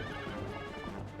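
The horse Epona whinnies briefly over galloping hoofbeats in a Legend of Zelda video game, a short loud burst of game audio.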